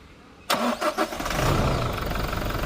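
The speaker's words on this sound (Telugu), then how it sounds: "ఒకసారి ఇంజిన్ అయితే స్టార్ట్ చేసి చూపిస్తానండి మనకి సౌండ్ ఎలా ఉంది ఏంటి అన్నది ఒకసారి మీరు గమనించవచ్చు" A 2020 Toyota Innova Crysta 2.4 Z diesel engine cranks briefly with a few rhythmic turns, then catches and settles into a steady, loud idle rumble nearby, with no speech.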